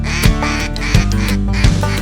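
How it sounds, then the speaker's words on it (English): Ducks on Reelfoot Lake call in a loud, continuous chorus of nasal quacking, with heavier accented quacks about every two-thirds of a second, close and without talk. "Here come the ducks"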